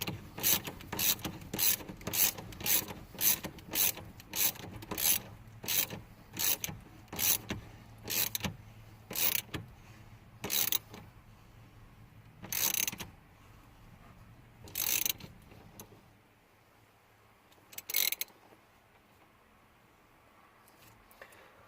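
A ratchet wrench tightens the steering wheel on a 2002–2008 third-generation Dodge Ram 1500, giving a steady series of sharp clicking bursts that space out and slow toward the end, close and clear with no talking.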